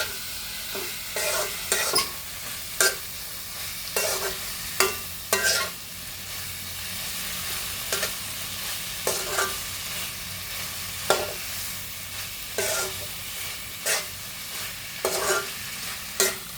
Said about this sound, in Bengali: এবার ভালোভাবে মশলা এবং মাংসগুলো নাড়িয়ে ছাড়িয়ে দেবো